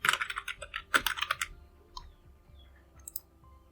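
Quick bursts of clicky typing on a computer keyboard while entering a username and password, close and crisp, tapering off into a few isolated key presses.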